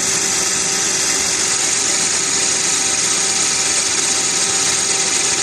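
A clutch-engaged machine driving a drum lug into place gives a loud, constant mechanical whine and grinding hum with a steady tonal pitch, running without a break and with no talking.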